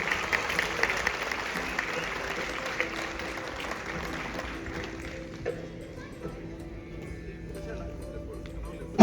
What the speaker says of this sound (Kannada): ದಯವಿಟ್ಟು ಜೋರಾದ ಚಪ್ಪಾಳೆ